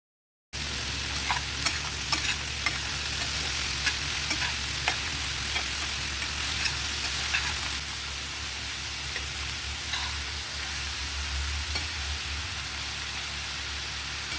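Broad beans fry in a pan while being stirred, giving a steady rain-like sizzle with scattered crackles and spoon scrapes. The sound is louder for the first half and then settles a little quieter, with no one speaking.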